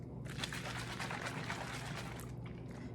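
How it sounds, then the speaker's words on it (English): Water pouring steadily into a bucket for diluting garden feed, a continuous close splashing fill that stays loud and even, tapering slightly near the end, with no talking. "we're going to fill it the rest of the way up with water"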